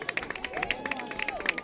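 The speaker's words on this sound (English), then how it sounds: "she will come off to a nice round of applause" Spectators at a college softball game between Gordon State and ABAC give a scattered round of applause as the pitcher leaves, distant clapping heard under a play-by-play commentator's voice.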